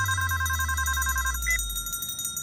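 A telephone rings in a busy police station office, a repeated electronic trill sounding loud and close over a low rumble for about a second and a half, then cutting off.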